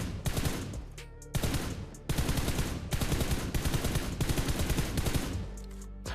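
Rapid bursts of automatic gunfire in PUBG Mobile, loud and close, in several sustained volleys separated by brief pauses.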